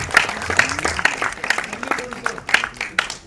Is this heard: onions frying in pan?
no